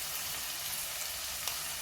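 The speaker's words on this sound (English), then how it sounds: "we're going to cook this on a low medium heat until the onions soften completely" Onions with salt cook over low-medium heat in a pan, giving a steady, even frying hiss with no pauses and one faint tick partway through.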